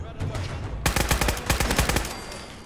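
Fast, loud machine-gun bursts ring out in Fallout 4's Nuka-World, a dense rapid string of close shots following a brief stretch of quieter background.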